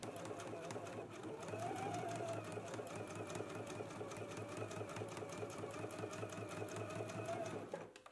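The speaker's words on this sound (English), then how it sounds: "let's go ahead and do some stay stitching here on both sides above the double notches going up along this curve" A home sewing machine stay stitches a garment curve above the double notches. It runs close and steady at an even whirring pace for the whole stretch, with no talk over it.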